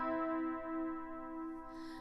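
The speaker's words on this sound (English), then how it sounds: "It's the C and it skips up to the E." A keyboard sounds a sustained C, then steps up a third to E, two clean held tones in sequence with no other sound.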